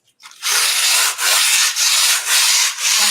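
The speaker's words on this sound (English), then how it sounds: "Like you're dust sanding" Sandpaper rubs lightly over a painting canvas in several quick, even strokes, a loud, close, dry scratching with brief pauses between passes.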